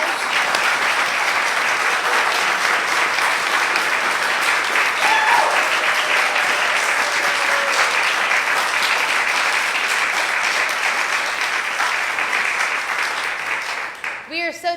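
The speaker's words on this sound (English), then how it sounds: "Can we do one more round of applause for these guys?" Audience applauding after a handbell choir concert, dense sustained clapping filling the room with a few voices, then tapering off at the end.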